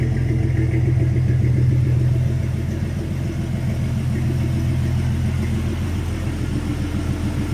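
A 1995 Jeep Cherokee XJ engine held at a steady high idle around 2,500 RPM, a loud continuous rumble with a sustained mid-range drone and no pauses.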